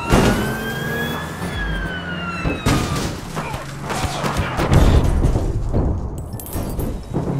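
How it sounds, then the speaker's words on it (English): A wailing siren in the video game APB Reloaded rises and falls at the start, mixed with in-game gunfire and vehicle noise, then fades under clattering action. "Your sirens on."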